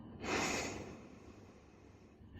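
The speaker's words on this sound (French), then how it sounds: "On inspire d'abord profondément." A single deep inhale, close and breathy, swells quickly and then fades into quiet.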